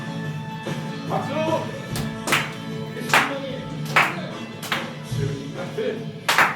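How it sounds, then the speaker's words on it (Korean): A Korean church congregation claps along during a worship song at a Sunday service, sharp rhythmic claps landing roughly once a second over sung and spoken voices. "박수."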